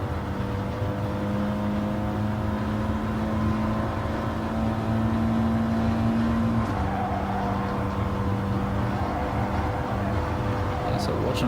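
Steady engine drone of an Audi TT at Willow Springs Big Willow in a racing simulator, held at high throttle with a sustained tonal whine and slight pitch shifts, with someone talking over it throughout.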